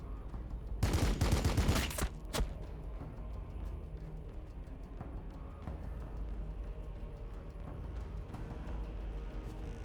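Gunfire from the video game Warhammer 40,000: Battlesector crackles in a dense, loud volley for about a second and a half, followed by a single shot, then a steady low background hum.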